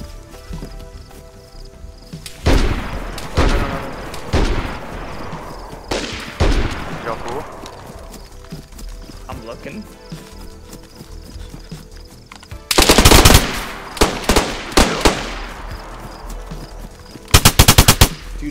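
Automatic gunfire in the survival shooter DayZ: several loud, rapid bursts of shots with pauses between them, including sharp clusters near the end, with some voices in the background.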